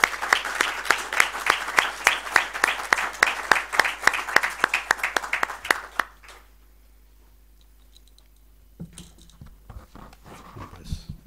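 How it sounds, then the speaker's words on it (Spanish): Steady clapping from a group at a debate on nuclear power fills the first six seconds, then fades to near quiet with faint shuffling afterward. "recibámosles con un caluroso aplauso"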